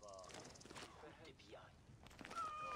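Several cats meow in the video game Assassin's Creed Origins, with a few short, rising and falling meows at a moderate distance, overlaid by game sound effects and a person speaking.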